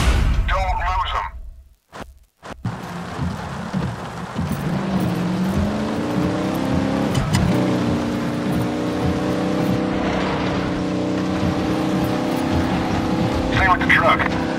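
Old truck roaring through a chase in a military shooter video game, engine revving and shifting in a rising, sweeping drone, loud and near, with voices talking over it.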